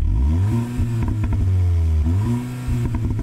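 A Cupra car revving hard, its engine note rising and falling with sharp crackling exhaust pops toward the end, loud and close with no talk.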